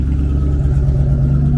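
Car engine with stock headers and an exhaust leak, revving up close and loud with a heavy, throbbing low rumble and a rough, uneven exhaust note across a short burst.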